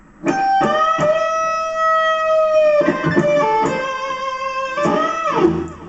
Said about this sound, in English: so now we're fully overdriven on the bridge humbucker pickup, full blast going strong